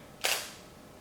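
A camera shutter fires once, triggered by a Yongnuo YN-E3-RT flash trigger: a single short, crisp click-burst in near silence, close and fairly faint.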